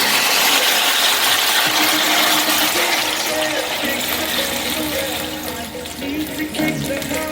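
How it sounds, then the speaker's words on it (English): Beef broth poured into a pot of vegetable beef curry stew, a continuous close splashing gush of liquid that gradually thins and softens toward the end. "Now I'm going to add some more beef broth in here."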